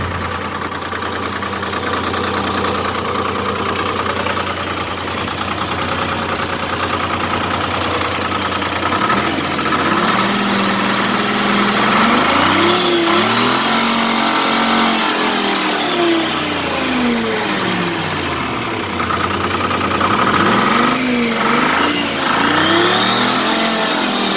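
A heavy Detroit Diesel engine in a 1967 C5 TreeFarmer skidder idles, then revs up in several long surges that rise and fall in pitch, loud and close, with no talking.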